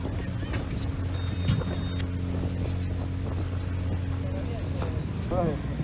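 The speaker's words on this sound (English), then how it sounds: "they've decided to drive the boat with just one motor instead of two" A boat on the Amazon river runs on a single motor, a steady low engine drone with wind and water rush throughout, close, while people talk over it.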